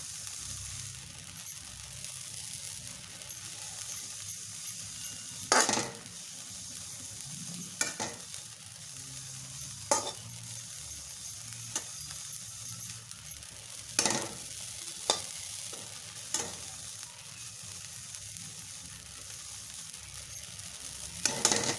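Amaranth seeds popping in a hot dry pan while being stirred with a ladle and cloth, a constant fine sizzling crackle broken by scattered sharp pops and brief scraping strokes.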